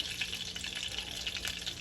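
Steady, close hissing and crackling of tanigue (Spanish mackerel) frying in a pan, a continuous sizzle with small pops throughout.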